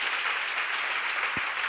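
Steady, dense applause from a seminar audience fills the whole stretch, loud and even, with no talking over it.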